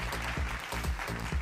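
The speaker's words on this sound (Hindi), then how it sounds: "जोरदार तालियां खेमाराम चौधरी के लिए और इन सब सम्मानित विजेताओं के लिए" Applause from an audience at an agricultural awards ceremony, steady clapping under a low rhythmic thumping of background music.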